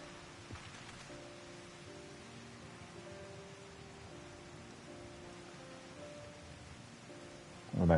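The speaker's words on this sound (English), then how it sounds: "A nice visit in the driving rain in the evening." Driving evening rain falls steadily in the video game Final Fantasy XIV, a faint, even wash of rainfall under a soft sustained tone, ending in a brief louder burst.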